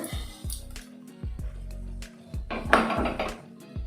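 Tempered spices are spooned from a small pan onto chopped banana for a curd pachadi, producing a series of light metallic taps and soft wet plops close by, ending in a brief clattering scrape.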